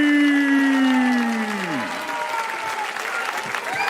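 A crowd applauds a new heavyweight champion after a technical-knockout win at a combat-sports event, the clapping sitting under a descending announcer's voice and swelling once it fades.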